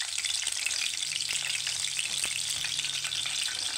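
An egg fries in hot ghee in a pan over low heat, giving a steady, close crackling sizzle that runs unbroken with no talking.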